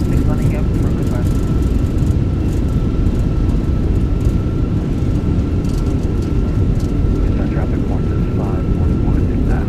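Airbus A320 thrust reversers roar steadily during landing rollout in the Fenix A320 cockpit in Microsoft Flight Simulator 2024, a loud, continuous broadband rumble with a faint tonal whine, sustained throughout.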